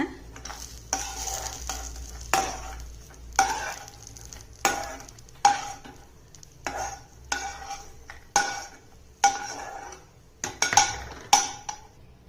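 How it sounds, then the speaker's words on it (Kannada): Raisins frying in ghee crackle softly while a spoon scrapes and taps against the pan in a regular rhythm, about one stir per second, close up and fairly quiet. "ಈಗ ಸ್ವಲ್ಪ ದ್ರಾಕ್ಷಿನ ತುಪ್ಪದಲ್ಲಿ ಕರ್ಕೊಳ್ಳೋಣ."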